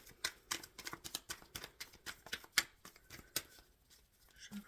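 Repeated crisp snaps and riffles of a tarot deck being shuffled come in a steady series of sharp bursts at close range, soft overall.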